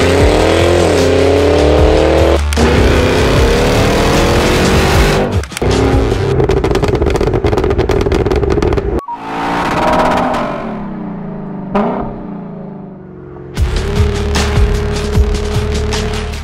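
A 2023 Cadillac Escalade V's supercharged 6.2-liter V8 revs loud and close. Rising and falling engine pitch is broken by sharp cuts and lulls, with supercharger whine and throbbing exhaust.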